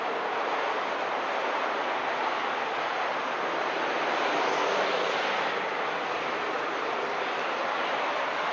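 An aircraft coming in to land with its gear down at Christchurch Airport, a steady, broad engine roar holding evenly throughout at a moderate distance, swelling slightly in the middle.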